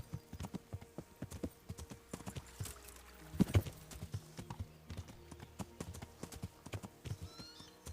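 Hooves of a horse in the medieval video game Kingdom Come: Deliverance clip-clop in a brisk, uneven rhythm, with one heavier stamp midway and a faint whinny among the steps.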